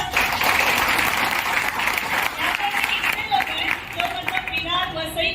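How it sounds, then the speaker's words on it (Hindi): A crowd at a Mi Lifestyle seminar claps on request, dense continuous applause with some shouting and voices mixed in, loud and sustained. "वापी से सर के लिए तालियां बजाओ।"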